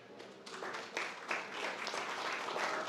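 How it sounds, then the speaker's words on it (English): Audience applause at a pitch competition as a presenter takes the stage, a brief burst of steady clapping from a modest crowd, faint and somewhat distant. "A round of applause for Meetelp."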